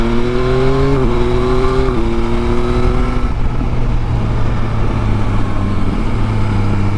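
A 2021 Yamaha Tracer 9 GT sport-touring motorcycle accelerates hard through its gears, the engine note climbing and dropping with each quick shift, loud and close throughout with no talk.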